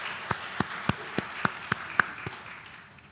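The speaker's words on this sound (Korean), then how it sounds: "함께 영광의 박수를 돌려드릴까요?" Steady rhythmic clapping, about eight distinct evenly spaced claps from what sounds like a small group or a single pair of hands at a gathering, fading out at the end.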